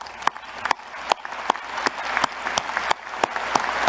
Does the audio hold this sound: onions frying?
no